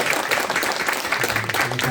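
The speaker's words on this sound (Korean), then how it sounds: "박수로 환영하겠습니다" Applause at a Christmas Day church service welcoming visiting grandparents, dense clapping from the congregation lasting briefly with some voices mixed underneath.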